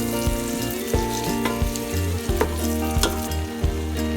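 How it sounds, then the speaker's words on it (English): Green onion fries in hot oil with a loud, continuous sizzle up close, broken by regular scraping stirs of the spatula about every half second. "I'm gonna fry this green onion a little bit"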